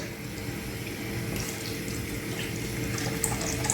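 Tap water runs steadily into a cooking pot while bolognese for ravioli is prepared in a kitchen, a constant close rushing pour with no voices.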